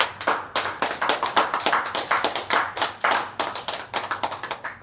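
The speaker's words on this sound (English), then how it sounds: "Let's clap it up for Tessa." Hands clap steadily for Tessa, a fast, even run of sharp claps from what sounds like one or a few people close by, continuing for several seconds without speech.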